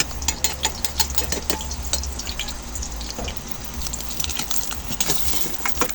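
An egg-dipped chicken sandwich fries in a pan, giving a steady close sizzle with scattered crackles, spatters and clinks throughout, no talk.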